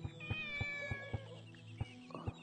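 A cat in the video game Shenmue meows in a high, wavering voice over a steady, even run of soft rhythmic taps, close and clear with no talking.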